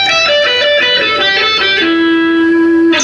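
Guitar playing a solo pattern of repeated single notes, each note ringing clearly with rich overtones, loud and close, with the last note held and sustained to the end.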